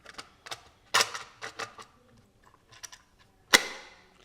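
A plastic boiler controller housing snaps shut during assembly: a quick series of sharp, close plastic clicks and taps, with one louder snap near the end.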